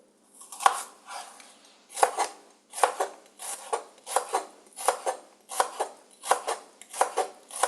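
Knife chopping vegetables into thin slices on a cutting board in short bursts of quick strokes, repeated about ten times with brief pauses, close and fairly quiet.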